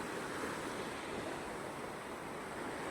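Sea waves on Velneshwar beach in Konkan at sunset, heard as a steady, soft wash of surf with light wind noise and no voices.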